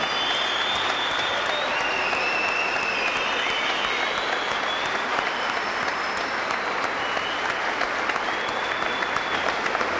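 Crowd applause at a boxing event in Comodoro Rivadavia, a continuous, even wash of many hands clapping at full volume for the whole stretch, with faint whistles riding on top.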